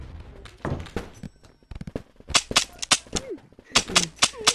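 Gunfire in the VR video game Animal Company comes as a rapid series of sharp shots in clusters, close and fairly loud, mixed with clatter and a voice.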